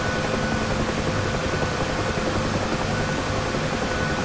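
A UH-1H Huey helicopter in the DCS flight simulator runs steadily, its rotor chop and turbine engine whine forming a constant, loud drone throughout.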